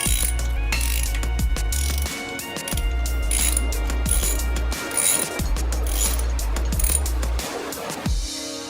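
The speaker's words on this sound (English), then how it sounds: "ratchet with a 9mm socket to kind of snug them up" A ratchet with a 9mm socket clicks steadily as it snugs the wheel spacer nuts on a 1994–2012 Mustang, with several bursts of fast pawl ratcheting broken by short pauses and metallic clinks.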